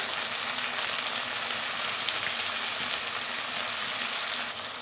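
A masala of onion, tomato, ginger, garlic and turmeric sizzles steadily in a pan, a close, continuous hiss of frying with no talking.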